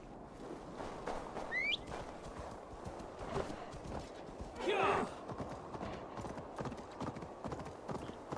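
Horse hooves clip-clop in a steady trotting rhythm in the video game Assassin's Creed Valhalla, with soft ambient game sound and a brief whinny-like call partway through.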